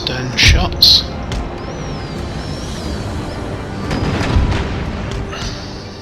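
Ship cannons fire in the naval battle game Empire Total War with the Darthmod mod: two sharp booms close together, then a deeper rolling rumble of further shots, with someone talking over the gunfire.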